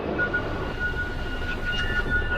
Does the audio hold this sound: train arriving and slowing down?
yes